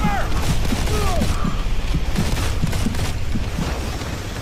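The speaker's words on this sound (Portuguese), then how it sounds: "Nossa, tá vindo tiro de todo lado" Gunfire in the Modern Combat 4 video game, rapid bursts of shots with mechanical clatter and whistling ricochets, loud and dense throughout.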